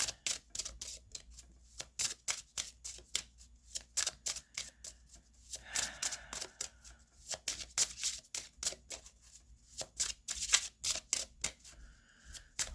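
Tarot cards are shuffled in a steady run of quick, crisp riffling clicks and flutters, close and fairly quiet, with no talk.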